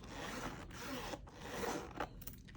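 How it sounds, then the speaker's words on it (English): A zipper on a Pebble-fabric planner with gold hardware is pulled in several short, scratchy strokes with brief pauses between them, quiet and close. "So it has a zipper here,"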